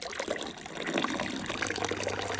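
Water being poured or splashed near a DIY paddle board, a close, bright trickling and splashing that swells and continues for a couple of seconds without talk.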